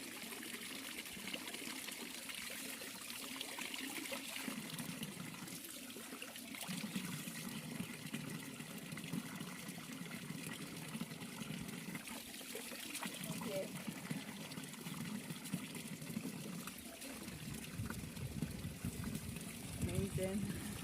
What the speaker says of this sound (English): this fountain, this spring, is that it comes from its own nascent